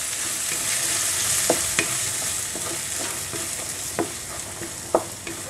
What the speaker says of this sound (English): let it fry for a while so that can get really nice aroma of all the spices